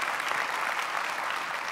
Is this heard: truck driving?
no